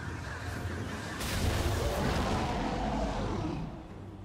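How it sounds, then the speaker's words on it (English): A turret collapsing in League of Legends during a top-lane Gnar versus Ornn match: a loud, sustained rumbling blast that swells at about a second and a half and holds for a couple of seconds before fading. "Blue team's turret has been destroyed."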